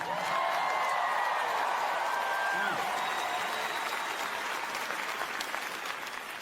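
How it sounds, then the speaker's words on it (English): Audience at a stand-up comedy show clapping steadily and loudly, a dense sustained applause that tapers slightly toward the end with no voices over it. "You guys are clapping"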